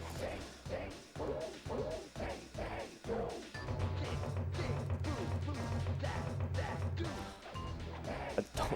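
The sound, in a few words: smashing sounds in video game Sly Cooper and the Thievius Raccoonus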